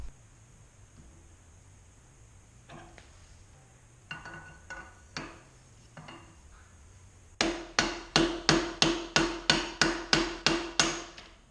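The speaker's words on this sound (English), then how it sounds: "Have a piece of pipe, hammer it up, and it should pull the race right out." A few faint knocks, then a loud, steady run of about a dozen sharp metallic hammer blows striking a pipe to drive out a steering neck bearing race on a Yamaha Bolt motorcycle, close by and evenly spaced.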